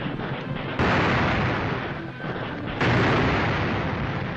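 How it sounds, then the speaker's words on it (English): Japanese artillery guns firing in 1938 wartime newsreel footage give two sudden, loud blasts about two seconds apart, each followed by a thick, sustained rumbling roar of old, muffled film sound. "Japanese guns blast a final rain of fire and steel on Nanteo"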